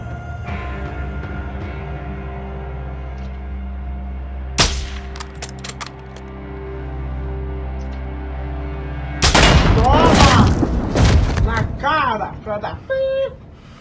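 Gunfire cracks and bursts of combat noise in Call of Duty: Modern Warfare II, with a single sharp shot then a loud cluster of blasts and clatter over a steady low game hum, mixed with voices.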